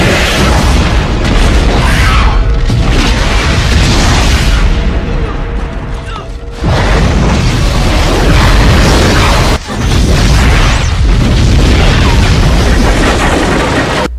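A mine entrance is blown up in the 1999 film Bats: loud, sustained booming blasts and rumbling debris roll on for many seconds, broken by two abrupt cuts.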